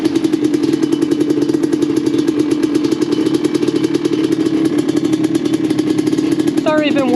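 A vintage Suzuki LT250R two-stroke quad runs close and loud with a steady, rapid buzzing putter and no pause, while a person talks over it near the end.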